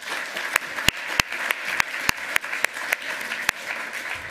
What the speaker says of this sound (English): Second round of applause for that.